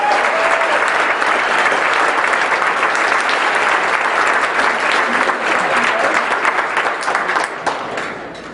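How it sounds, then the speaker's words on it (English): A full round of applause fills a banquet hall, loud and dense from many hands, holding steady for several seconds before tapering off at the end. "Let's give him a round of applause."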